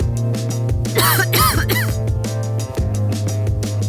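A few harsh coughs and throat-clearing sounds, set off by smelly incense, over a steady tonal music background, close and fairly loud.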